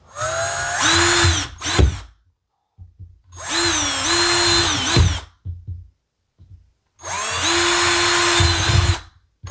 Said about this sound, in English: We're going to grab our trusty cordless drill.